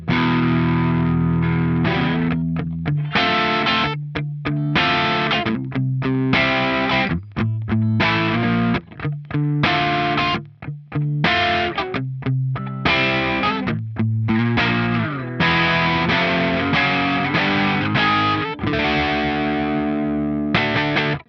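Overdriven electric guitar through a Line 6 Helix Stadium XL US Double Black amp model plays a continuous riff of chords and single notes, loud and crunchy, with no voices.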